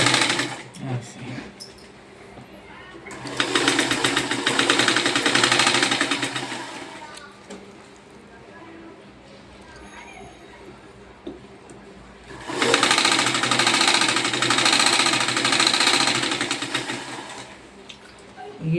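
A sewing machine stitches the side seam of a kurti in two long, loud, steady runs of several seconds each, separated by a quieter pause with faint handling sounds.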